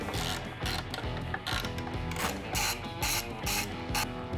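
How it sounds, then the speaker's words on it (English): Ratchet wrench backing out T27 Torx bolts beneath the light on a Harley-Davidson Road Glide touring bike, a close, steady run of quick clicking strokes repeating in bursts with no voices. "remove these two bolts underneath the light, and that is a 27 Torx"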